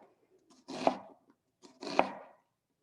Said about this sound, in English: These fingers are holding these end pieces of the onion here so they don't fan out while I'm chopping.